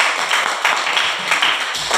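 Classroom applause after a group presentation, steady dense clapping from a group of students filling the room, fairly loud and close throughout.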